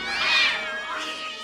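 A cat lets out a drawn-out, wavering meow that swells and fades, alone and fairly close.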